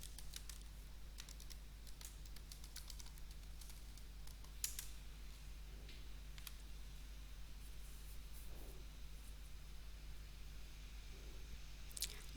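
Faint keystrokes on a computer keyboard as a password is typed at a Windows login, scattered soft clicks over a steady low hum with no talk.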